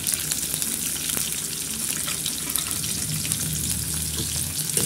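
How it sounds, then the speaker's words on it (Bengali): Onions sizzling in hot oil with cumin seeds in a wok, a steady, close frying hiss that continues throughout with occasional stirring clinks. "এখানে পেঁয়াজ আছে, পেঁয়াজগুলো দিয়ে দেবো।"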